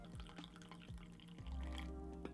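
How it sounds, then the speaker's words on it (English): Tea pouring from a teapot into a cup at a home tea party, a steady close trickle with a few drip-like plinks and a rising fill tone, no talking. "Okay, I'm gonna pour the tea."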